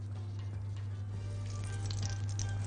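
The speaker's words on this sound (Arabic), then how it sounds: "الوك على النار سخنت كويس جدا، هنحط لها شويه سمنه" Ghee heating in a hot wok on the stove, ahead of chicken livers going in, gives a steady soft sizzle with faint crackles over a constant low hum, close and even throughout.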